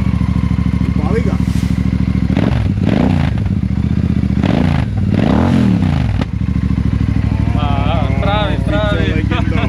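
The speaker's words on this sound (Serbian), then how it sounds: "A sada kao iznenađenje slušamo Royal Enfield. Koji je ovo model? Super Meteor 650." A Royal Enfield Super Meteor 650 motorcycle idles close by with a loud, steady engine throb, then gets revved sharply several times in rising and falling bursts while people talk over it.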